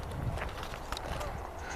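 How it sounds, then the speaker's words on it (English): A horse's hooves clip-clopping on the ground, a fairly steady run of moderately loud hoofbeats with a faint voice in the background. "That's Jamie's horse."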